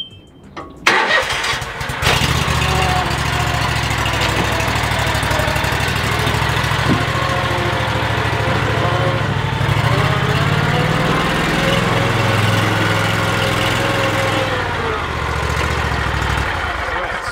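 A zero-turn lawn mower engine cranks and catches, then settles into a steady, loud, close idle that runs on without a break.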